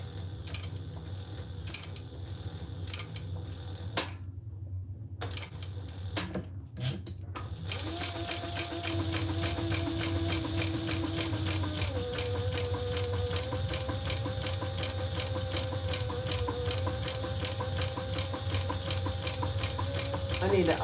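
A home sewing machine in need of oiling runs steadily for a long stretch, with a dense, regular mechanical clatter and rattling gear noise. It starts after brief pauses, then continues loud and continuous, with a slight creak.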